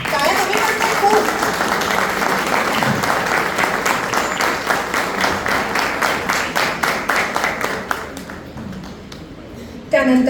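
An indoor audience claps for about eight seconds, dense and steady at first, then thins into a few scattered claps and dies away, with a brief sound from the room right at the end.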